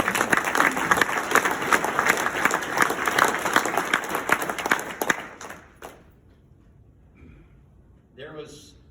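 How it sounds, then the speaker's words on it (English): Loud applause from a high school 50th anniversary reunion audience, dense clapping for about five seconds before fading out, followed by quiet and a brief voice near the end. "So a round of applause for all of them."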